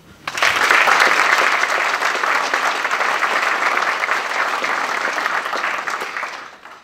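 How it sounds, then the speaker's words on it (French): An audience in a community amphitheatre in Edmundston bursts into warm applause, a dense, even wash of clapping that rises quickly, holds for several seconds and fades out. "je vous invite à les applaudir chaleureusement en signe de reconnaissance pour leur engagement"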